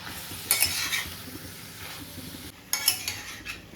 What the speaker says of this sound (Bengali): এবারে আবারও খুব ভালো করে ভেজে নেব।